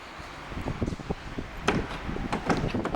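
Trunk lid of a 2013 Cadillac CTS Premium sedan, a manually closed non-power trunk, shutting with a few dull thumps amid faint rustling and outdoor background noise.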